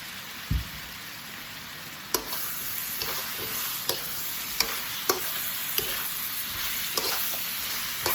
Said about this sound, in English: What we're now going to do is add the peppers.